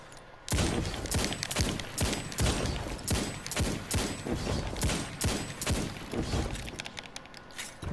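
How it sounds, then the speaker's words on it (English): Rapid gunfire from a Destiny 2 player firing continuously while jumping, a steady stream of sharp shots for several seconds, loud and close with no talk over it. "I'm gonna jump, but then I'm gonna continuously shoot and you're gonna see something"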